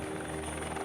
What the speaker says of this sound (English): Personnel are transported by helicopter to the different settlements.